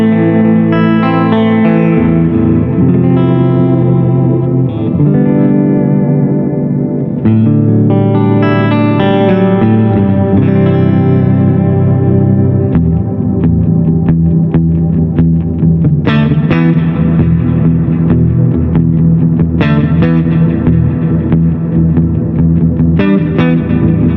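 Sustained electric guitar washed in big ambient reverb, with repeating delay echoes stacking into a dense, continuous wall of sound.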